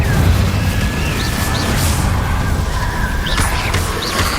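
A fiery spell explosion in Hogwarts Legacy lands as a dense, loud rumble with booming, crackling bursts over a constant roar of game combat.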